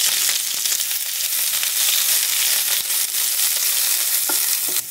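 Two medium-cut onions sautéing in two tablespoons of oil in a pan, a dense continuous sizzle with occasional stirring clicks and scrapes, close and steady with no voices.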